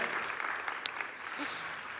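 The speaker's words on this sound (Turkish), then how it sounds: "Kocaman alkışlar ve başarılar jürimize." An audience at the opening of the 41st Istanbul Film Festival applauds the festival jury, a continuous moderate clapping from a crowd in a hall, even and unbroken throughout.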